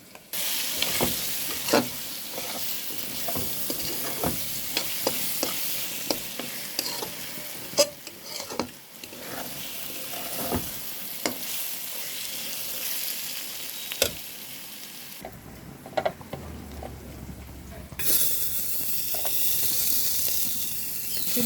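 Soup cooking in a little oil in a pan, with steady sizzling and repeated scraping stir strokes throughout, near and fairly loud, the frying hiss thinning out toward the end.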